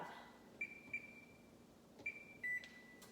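A home kitchen oven beeps as its temperature is set to 425 for buttermilk biscuits: a handful of short electronic beeps, two close together, then a longer tone near the end, quiet and close with no talk.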